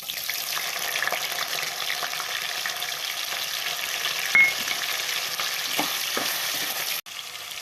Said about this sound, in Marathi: आणि आता पनीर फ्राय करू.